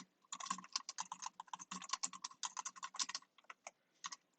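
Rapid clicking keystrokes on a computer keyboard as a name is typed, close and crisp in quick uneven bursts with no talking.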